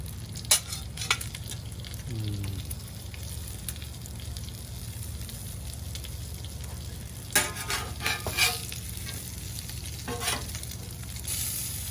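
Egg and ham frying on a 22-inch Blackstone Adventure Ready griddle, a steady broad sizzle throughout with a few louder scraping and clinking bursts from the spatula, close and moderately loud, no talk.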